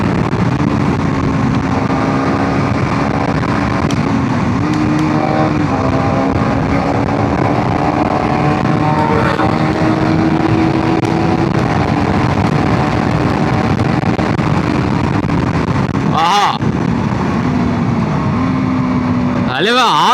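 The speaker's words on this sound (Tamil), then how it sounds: "இது டியூக்கா விண்ட் பிளாஸ்ட்ல அப்படியே பறக்குது." A KTM Duke motorcycle rides at speed, its engine droning steadily beneath a loud, continuous rush of wind blast, with brief buffeting gusts near the end and a rider talking over the noise.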